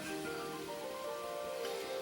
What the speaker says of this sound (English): Yeah, feel that sizzle.